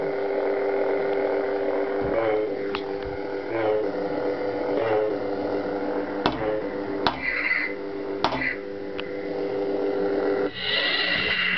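A Hasbro-style soundboard in a white windowed lightsaber hilt with a vented hollow pommel plays a steady electronic hum broken by sharp clash and swing effects, loud and close, with tonal pitch shifts throughout.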